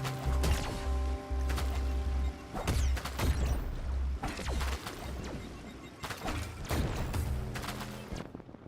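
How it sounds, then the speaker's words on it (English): Explosions and crashing impacts from the game MIO: Memories in Orbit, several sharp bursts spread over a few seconds over a steady low droning game soundtrack. "That explosion was well over by the point I took damage from that."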